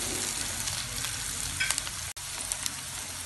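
Onions frying with salt in a pan for ragi semiya upma, a steady soft sizzle broken by scraping stirs and a few light clinks, with no voices.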